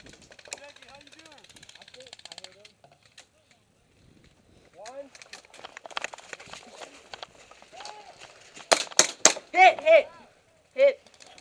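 Airsoft guns fire in short snapping bursts during an outdoor airsoft game, scattered and mostly distant with a few louder close volleys near the end, under frequent shouting and talk from players.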